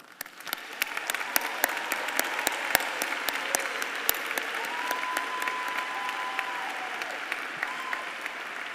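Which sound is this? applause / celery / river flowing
applause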